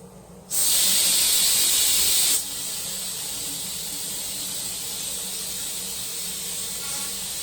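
A loud hissing, crackling burst for a couple of seconds, then dropping to a quieter steady hiss, as a laser cleaner blasts rust off a metal Japanese pagoda up close.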